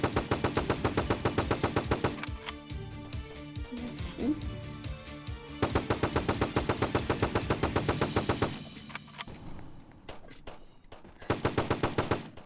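AK-47 automatic fire in a video game comes in rapid, loud bursts, with long rattling strings separated by short pauses and a few isolated single shots near the end. A voice talks quietly underneath.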